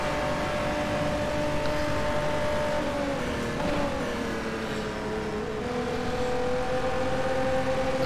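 A Ferrari 512 S race car in rFactor 2 holds a steady, loud engine drone at high speed. The pitch sags slightly midway as if lifting off for braking, then climbs back, with no voices over it.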